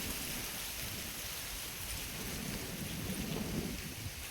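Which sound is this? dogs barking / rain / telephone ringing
rain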